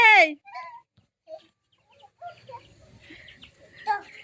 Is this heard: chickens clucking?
yes